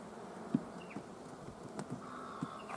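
Honey bees hum around an opened hive during a colony check, a low steady drone with a few sharper buzzes of single bees passing close, no talking.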